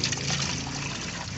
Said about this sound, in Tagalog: Lalagay ko rito sa timba. Kukuha ako ng tubig. Lalagyan natin ng tubig.